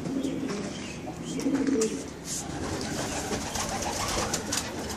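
Racing pigeons coo steadily in a loft in a low, soft chorus, with some faint chirps and rustling mixed in, close by and continuous.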